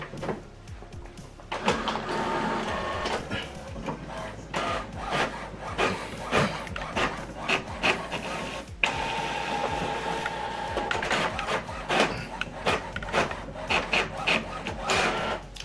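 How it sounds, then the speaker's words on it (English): An HP OfficeJet printer printing a double-sided document, with whirring feed motors, sliding print-head rattles and paper shuffling, close and continuous with short pauses. "Now this document is printing."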